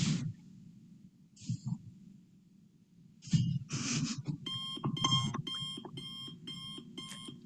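An elderly fall detection system's alarm rings as a rapid, repeating electronic beep pattern in its second half, loud and steady, after some brief thuds and room noise.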